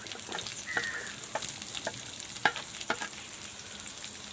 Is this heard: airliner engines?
no